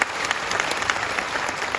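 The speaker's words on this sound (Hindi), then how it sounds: "तो एक जोरदार ताली उसके लिए।" Audience applause at a company product awareness program, a dense burst of clapping from a crowd, steady and loud throughout with no voices over it.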